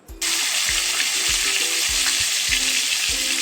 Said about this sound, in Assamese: অকণমান তেল দি